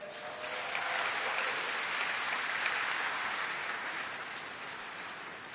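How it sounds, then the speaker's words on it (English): A graduation ceremony audience applauds and cheers, a dense continuous clapping that holds steady and fades slightly toward the end, heard up close with no speech. "I'm glad you're in the mode of cheering and everything."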